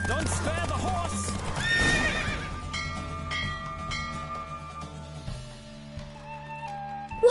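During a horse race, a horse neighs loudly over galloping hooves and a jingling bell, with a voice speaking under the sounds and a clattering finish.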